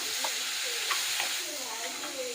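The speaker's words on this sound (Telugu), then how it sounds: "దీన్ని ఇప్పుడు పచ్చివాసన పోయేదాకా వేయించుకోవాలి మనము" Ground mint masala paste frying and being stirred in a pan, giving a continuous close sizzle and hiss with faint scraping strokes from the spoon.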